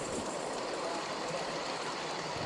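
Ride-on model railway train at the Orange County Model Engineers track in Costa Mesa, rolling steadily nearby with a continuous rumbling clatter of wheels on rails, with faint voices in the background.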